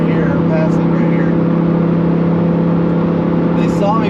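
A car accelerates and passes along the road beside a Lamborghini, a steady engine drone holding throughout at moderate loudness with faint hiss on top and no talk over it.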